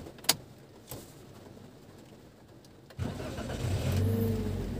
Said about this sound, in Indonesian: Pertama kita nyalakan dulu mobilnya.